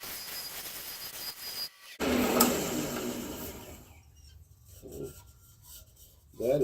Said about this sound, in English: I'm going to switch tools and go in with this rounded scraper.